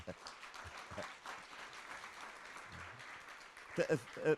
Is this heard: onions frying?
no